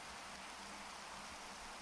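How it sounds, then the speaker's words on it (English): Rain in a video game falls as a steady, even hiss, quiet and unbroken for a moment, with no voices. "It's raining. They don't like the rain."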